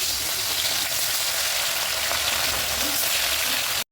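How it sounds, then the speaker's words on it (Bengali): Rohu fish pieces rubbed with salt and turmeric fry in hot oil in a kadai, giving a steady, close, dense sizzle that holds evenly throughout with no talking. "এবার আমি মাছটা ভেজে নেব,"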